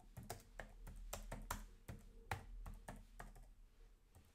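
Quiet, steady keystrokes on a computer keyboard as someone types a short phrase, with roughly a dozen crisp clicks and brief pauses and no talking.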